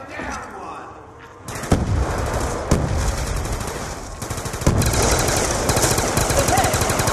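Automatic gunfire in Black Ops 2 Zombies on the Buried map at a high round, with rapid bursts of loud shots and several heavy reports over a continuous wash of game noise.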